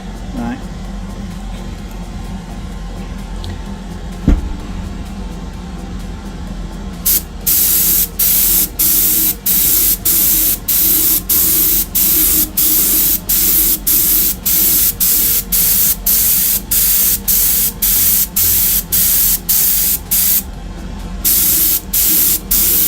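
An airbrush sprays paint onto a Greek-style vase in short repeated hissing bursts. A quieter fan hums steadily beneath and a voice speaks occasionally.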